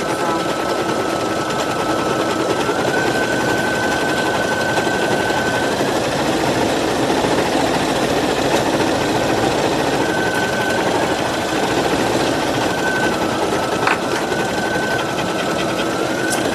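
Embroidery machine stitching in-the-hoop vacation ears with gold thread, a steady, continuous mechanical whir and rapid needle rhythm running throughout at moderate level, with a faint tone rising over it at times.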